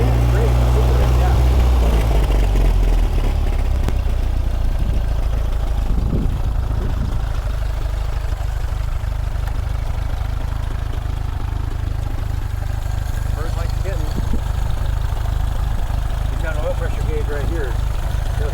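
A rebuilt four-cylinder engine from a 1931 Ford Model A Woody Wagon idles with a steady low rumble, close by, while people talk over it.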